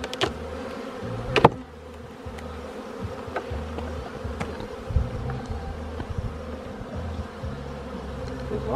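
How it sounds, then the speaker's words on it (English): Swarm of bees buzzing steadily around a beehive box outdoors, a dense continuous drone with individual insects passing close now and then, no voices. "Lots of fucking bees, man."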